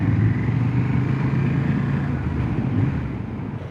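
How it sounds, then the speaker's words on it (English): A 2025 Honda Transalp 750 motorcycle's exhaust drones steadily at low speed, a close, continuous engine rumble mixed with wind buffeting on the mic. "Nice sound out of the exhaust."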